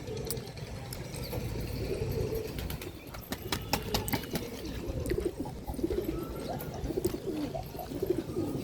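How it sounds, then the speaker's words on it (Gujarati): Pigeons coo in low, soft murmurs amid steady outdoor noise, with scattered clicks and fluttering sounds throughout. "આટલા બધા ઊંચા ઉડે છે લાલાભાઈના કબૂતર."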